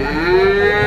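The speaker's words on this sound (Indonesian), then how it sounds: "Ini sapi yang dibeli Mas Haidar, masih untuk dipelihara lagi" A single cow lets out one close, loud, sustained moo, a deep tonal bellow lasting under a second.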